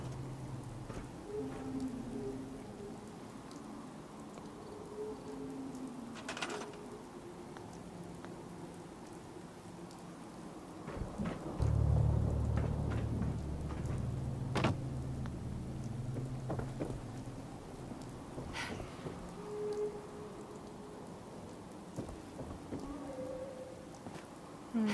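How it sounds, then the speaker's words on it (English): Rainstorm with thunder in Fallout 4: steady soft rain hiss throughout, with a deeper thunder rumble swelling in the middle, faint and distant, no talk. "This rainstorm is soothing."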